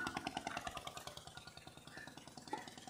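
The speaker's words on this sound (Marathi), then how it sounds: "ही तरीची होडी पुन्हा चालली आहे कर्लीला" A ferry boat crossing a fishing creek toward Karli, its engine chugging in a steady, quiet rhythm of low pulses with no voices over it.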